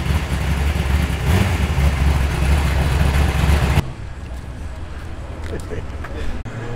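A Nissan Skyline GTR R32 pulls away at a Sydney car meet, its engine a loud, steady roar that drops off sharply partway through as the car moves off, leaving a quieter rumble behind.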